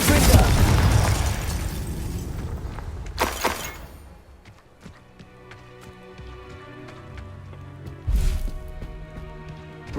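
A Confringo fire spell bursts in a Hogwarts Legacy battle, with a loud blast at the start and another burst later, amid swirling game effects and musical tones.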